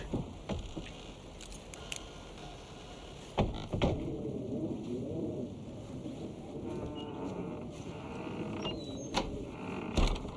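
Creaking door in the horror video game Alan Wake 2, heard as drawn-out groaning creaks over a low ambient wind-like drone, with a few sharp knocks and no speech.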